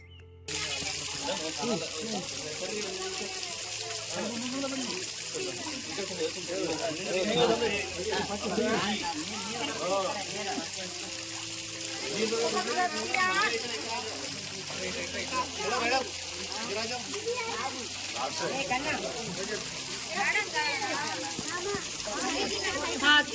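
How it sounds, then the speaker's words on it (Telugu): A small waterfall stream at Paladhara Panchadhara, Srisailam, gives a steady broadband rush of falling water, moderately close and continuous, while people talk over it for most of the time. "ఇక్కడ పాలధార పంచదార దగ్గర ఒక చిన్న వాటర్ ఫాల్స్ ఉన్నాయండి"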